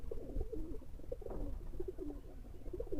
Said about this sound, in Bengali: এটা আমার গোল্ডেন পায়রা